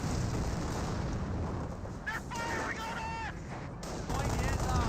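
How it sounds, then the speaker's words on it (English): Grenade explosions and gunfire rumble steadily in Company of Heroes, a dense, continuous battle wash of blasts and shots with someone commentating over it. "Grenades been thrown."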